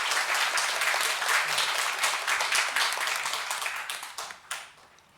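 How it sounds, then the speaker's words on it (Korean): A church congregation at a Sunday morning service applauds, dense clapping that holds steady, then thins and fades out toward the end with a few last claps. "하나님께 영광의 박수 올려드리겠습니다."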